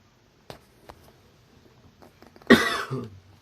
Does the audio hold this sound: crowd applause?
no